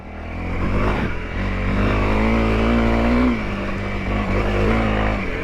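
A Honda CRF 300 L motorcycle engine revs hard and loud in second gear as the bike climbs a steep dirt hill, with the pitch rising and holding high near the top of the rev range.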